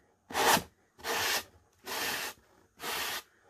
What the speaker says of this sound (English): run your sanding block.